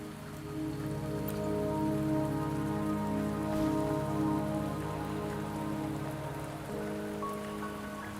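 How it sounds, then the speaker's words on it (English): Steady rain pours onto surfaces in the video game Wuthering Waves, a dense, continuous hiss at even loudness throughout with no voices. "Don't worry, the rain won't last much longer."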